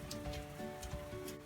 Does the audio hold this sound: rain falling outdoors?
yes